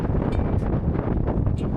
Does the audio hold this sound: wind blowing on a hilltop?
yes